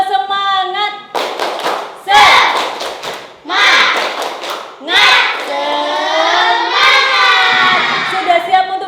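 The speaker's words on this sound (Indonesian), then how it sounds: "Coba kita tepuk semangat" A class of schoolchildren performs a rhythmic spirit clap (tepuk semangat), with bursts of loud group clapping alternating with chanted, shouted lines from the children, close and energetic.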